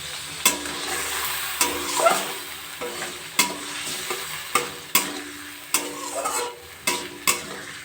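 Fried potatoes stirred into spice masala frying in oil, a soft continuous sizzle broken by sharp, regular clacks of a spatula against the pan about once a second, close by.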